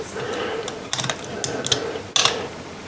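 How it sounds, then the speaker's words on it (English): Metallic clicks and scrapes of an 8mm wrench tightening a nut over a lock washer and spade terminal on a 1983 BMW R80ST alternator, a few close, sharp bursts spaced irregularly with quiet gaps between. "tighten that up with an 8mm wrench"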